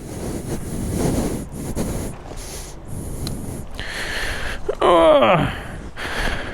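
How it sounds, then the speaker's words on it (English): Heavy wind buffets the microphone in rumbling gusts throughout, with a brief breathy burst near the end. "Now it's a very windy day here, so you're going to have to bear with me."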